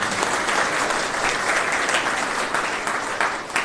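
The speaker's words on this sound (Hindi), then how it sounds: "पूरी सफलता का श्रेय इनको देना चाहिए, तो ताली बजनी चाहिए।" An audience claps steadily at a felicitation ceremony for selected students, a dense, continuous round of applause at close range.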